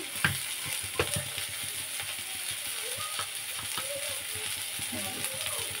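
Salted food sizzling and frying in a pan while being stirred, with soft scraping and clicking of the utensil at a steady moderate level in a home kitchen.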